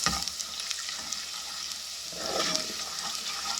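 Mung dal with ginger, garlic and spices frying in a pan until golden, a continuous bright sizzle with occasional stirring scrapes, close and steady without talk.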